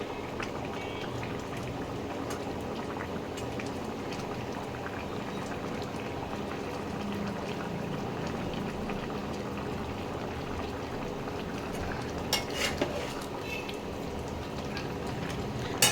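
Sliced onion rings sizzle and bubble steadily in a hot pan of oil while white chicken cooks, a soft, continuous frying hiss with no talking.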